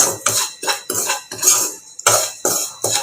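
Metal utensil scrapes and clatters in a pan while something is lightly roasted for mango kesari, a steady series of repeated stirring strokes, close and fairly loud, with no voices.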